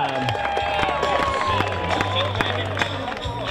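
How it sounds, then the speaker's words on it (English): A Saturday-night ranch rodeo crowd in Amarillo, Texas cheers and claps for a qualified time, with a loud, sustained burst of applause and hollering and an announcer's voice over it. "the crowd goes wild on a Saturday night in Amarillo, Texas for the qualified time"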